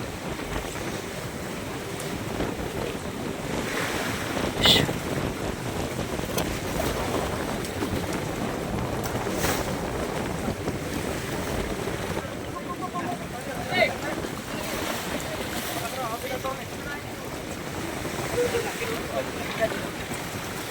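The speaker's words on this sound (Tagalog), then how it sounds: "Ito yung palong area, sobrang lakas. Lakas po ng alon." Steady wash of strong sea waves and wind noise on an open shore, continuous and fairly loud, with a few gusty peaks and faint voices underneath.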